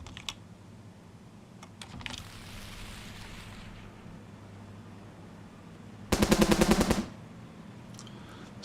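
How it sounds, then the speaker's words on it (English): Machine gun fire in the tank warfare game Armored Brigade 2, Scandinavia setting: a sharp, loud rapid burst of about a second stands out against quiet rumbling ambience, with a few fainter distant shots around it. "It's just machine guns at this stage."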